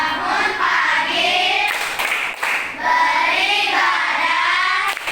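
Schoolchildren in an Indonesian classroom do a rhythmic class clap, quick patterned claps chanted along by young voices, near and fairly loud.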